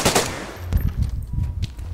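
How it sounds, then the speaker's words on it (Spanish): Close gunfire in the DayZ game: a sharp burst of shots followed by several scattered, quick reports, loud and rattling, with no talk over them. "¡Nos disparan!"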